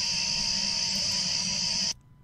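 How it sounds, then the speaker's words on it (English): Crickets chirping at night in the countryside, a dense, steady, loud insect drone that stops abruptly near the end, with no talking. "there is a lot of crickets at night"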